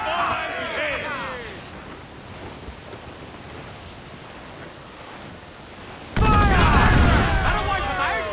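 Broadside of ship cannons in Assassin's Creed IV Black Flag, a sudden loud burst of heavy booming fire near the end, preceded by crew voices shouting over steady sea and wind noise.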